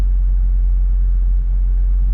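A 2022 Subaru WRX with a manual gearbox drives along, its engine a loud, steady low rumble with a faint dip partway through and no voices.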